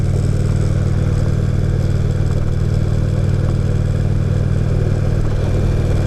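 A 2016 Indian Roadmaster motorcycle rides along on a hot day, its engine a loud, steady, close droning rumble with constant road and wind noise and no change in pace.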